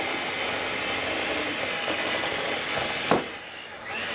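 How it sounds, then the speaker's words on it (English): Electric hand mixer whipping potatoes in a home kitchen, a steady close motor whir running throughout, ending in a brief clatter and a drop in pitch. "I take my mixer here and I make whipped potatoes"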